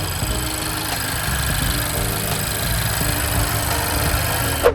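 A 2024 Honda HR-V 1.5 turbo engine running with a steady, even drone and faint mechanical ticking, close and constant with no talk.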